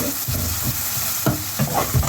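Mustard seeds and green chillies sizzling and frying in hot oil, close and steady, with a few sharp spatters and the scrape of stirring in the pan.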